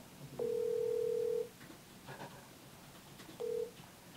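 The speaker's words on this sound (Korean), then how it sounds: "자, 한번 전화 연결을 해보도록 하겠습니다." A telephone call is placed for a broadcast interview, producing a clear electronic ring tone: one long steady beep, a pause with faint background noise, then a second shorter beep.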